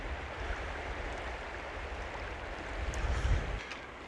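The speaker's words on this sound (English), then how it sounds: "Lovely little creek." A small creek runs through a natural outdoor setting, giving a steady, continuous broadband rush of flowing water with some low wind rumble, swelling slightly louder near the end; no voices.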